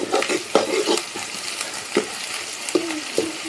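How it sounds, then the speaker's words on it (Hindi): Onion and garlic frying in a pan on a gas stove for a fish fry, a soft continuous sizzle broken by several scraping stirs of a spoon against the pan at irregular intervals. "तो गैस इधर देखिए हम लोग का प्याज लहसुन बढ़िया से भूंज गया है"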